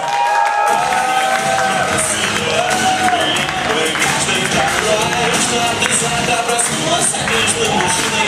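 A comedy-show audience claps, cheers and whoops to welcome a comedian onto the stage, loud and continuous with shouts rising above the dense applause and a voice over the crowd.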